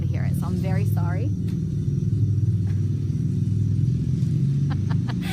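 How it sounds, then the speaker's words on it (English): Four-wheelers driving by outside give a steady, loud low rumble that runs the whole time, with a few brief high chirps over it early on. "I can hear the four-wheelers right now"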